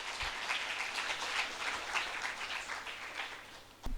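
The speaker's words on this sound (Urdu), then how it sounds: "آپ سب کی بھرپور تالیوں میں" A school assembly audience in Karachi gives a steady burst of clapping that fills the whole stretch, dense and even, with no voices over it.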